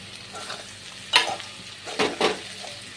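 Fried potatoes go into sizzling spices for an egg and soybean dish and are stirred in, a low fry hiss broken by a few sharp spatula scrapes and knocks against the pan, close, with no voices.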